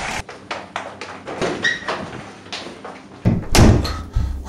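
A supposedly haunted door bangs and rattles several times in quick, uneven knocks, ending in a heavier, loud slam up close.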